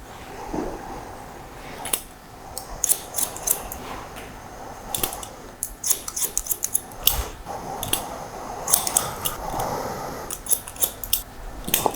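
Scissors trim longer hair during a tidy-up haircut on hair grown out from a buzz cut, with rapid, close, crisp snips in irregular bursts and no talking.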